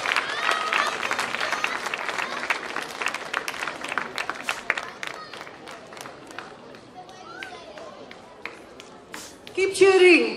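Audience at a Hindu temple celebration in Saint Louis applauding and cheering steadily, with dense clapping throughout and crowd voices mixed in, tapering slightly before a burst of cheering near the end.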